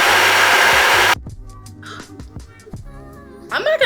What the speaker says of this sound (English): I'm actually gonna take a diffuser. I'm gonna do it on low